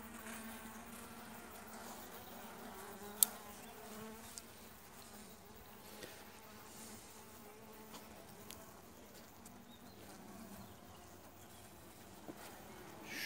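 Honeybees hum around a frame in a weak colony's hive, a continuous close buzz with a few faint clicks and taps over it.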